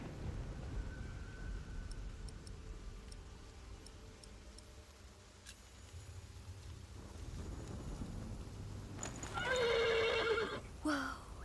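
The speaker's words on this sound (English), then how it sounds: "The horse nearly woke the guard." A horse whinnies loudly near the end after a stretch of quiet rumbling ambience with faint ticking sounds, in the video game Ken Follett's The Pillars of the Earth.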